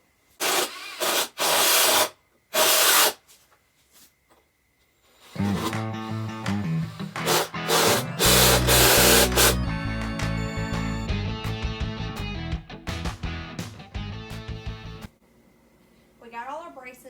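Screws being driven into bowed pressure treated wood for a table frame: a few loud bursts from a power driver with short pauses, then longer whirring runs, with talk in between.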